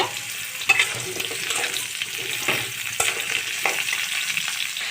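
Pointed gourd and potatoes frying together in oil in a pan, a steady close sizzle with soft stirring scrapes and occasional clinks.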